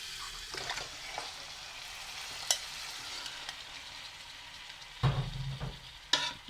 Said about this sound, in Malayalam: അപ്പം ഇനി നമുക്കിതിലേക്ക് മട്ടൺ ചേർത്ത് കൊടുക്കാം.